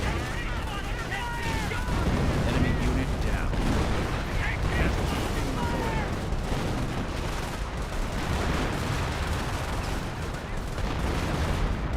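Dense battlefield gunfire in the World War II strategy game Company of Heroes, with artillery and Flak 80 anti-aircraft fire pounding steadily amid overlapping shots and blasts, loud and unbroken throughout.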